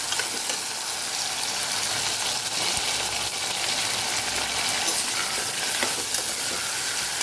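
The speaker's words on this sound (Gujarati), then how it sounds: "આપણે આવી રીતે સાતળી લઈશું" Sukibhaji, a Gujarati dry potato dish, sautéing in a pan: a steady sizzle and fry with occasional stirring scrapes, close and continuous, with no voices.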